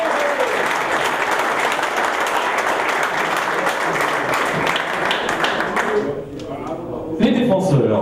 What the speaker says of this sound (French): Je vous demande également de l'applaudir, Herbert Chopic.